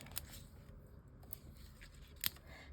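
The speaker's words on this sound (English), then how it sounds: "I need these scissors." Scissors snip through paper for card-making embellishments, a few quiet, crisp cuts spread across a near-silent moment, close by and faint.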